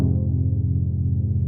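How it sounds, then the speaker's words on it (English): A long sustained pad sampled from a Prophet synthesizer holds a warm, dense low chord with a slowly moving filter, steady and even for its whole length, alone without any voices. "Just a nice long sustained pad sound with a little bit of filter movement as the filter"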